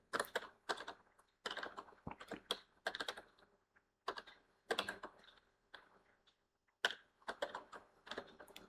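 Typing on a computer keyboard in bursts of quick, close, quiet key clicks with short pauses between runs, no one talking.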